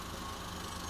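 Steady low rumble of car engines and road traffic from a nearby road just outside a home, a continuous faint broadband noise with no talking.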